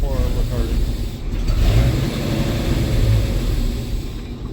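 A 1984 Ford F-250 engine fitted with a Comp Cam 268H and with its timing too far retarded, struggling to idle: a rough, uneven low rumble that surges and sags, heard close.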